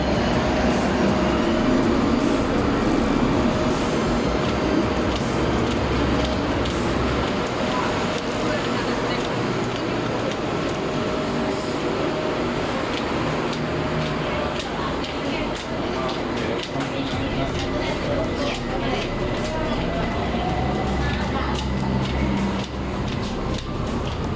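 A BTS Skytrain electric train runs through Bangkok, a continuous rumbling and whirring ride with a rising motor whine, while passengers talk throughout close by.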